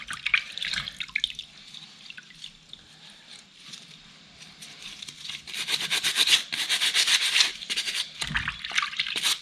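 A Muc-Off brush scrubs dirty motorcycle brake pads from a Kawasaki Z1000SX after 1400 miles. Dense, close bristle scrubbing starts softly and grows louder, with some wet, watery texture and no voices.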